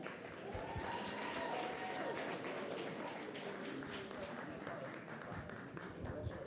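Applause at a literacy gala after a state representative is invited up to speak, a faint, distant and continuous patter of clapping with a murmur of crowd voices underneath.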